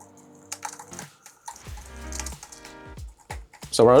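Quick irregular key taps clatter nearby on a tablet keyboard case for an iPad Pro, soft clicks in uneven bursts, with a faint voice in the background.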